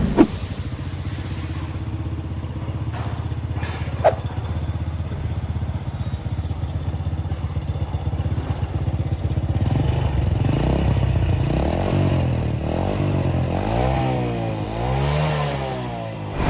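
A Honda Supra Legend motorcycle engine runs at a steady close idle with mechanical clatter, then is revved in several rising and falling bursts toward the end.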